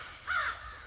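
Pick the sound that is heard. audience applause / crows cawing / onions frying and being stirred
crows cawing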